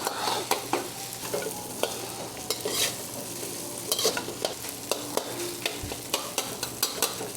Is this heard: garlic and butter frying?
yes